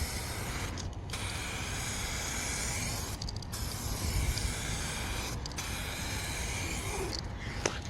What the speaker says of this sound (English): Let's make sure we get that clear nice and thick.